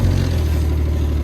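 A Ski-Doo Renegade 900 ACE snowmobile engine catches and settles into a steady, close low idle with a faint metallic exhaust-spring rattle, running alone without voices.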